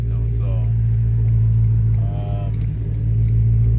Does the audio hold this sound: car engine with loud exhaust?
yes